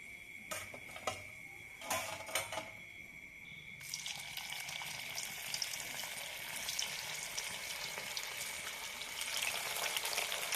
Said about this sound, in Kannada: ಹಾಗೆಯೇ ಎಲ್ಲ ಉಂಡೆಗಳನ್ನು ಹಾಕ್ಕೊಂಡು ಫ್ರೈ ಮಾಡ್ಕೋಬೇಕು